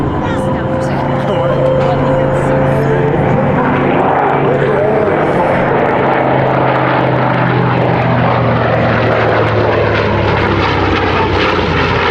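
Vintage World War II propeller aircraft, among them a C-47, B-24 and B-25 of the Commemorative Air Force, drone loudly overhead with a steady rumbling engine roar that slowly shifts in pitch as they pass, a voice talking over it.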